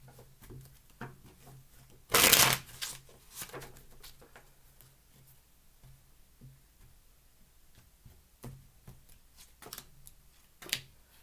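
A tarot deck is shuffled in quiet surroundings, one loud riffling burst followed by scattered soft taps and card flicks, faint and sparse.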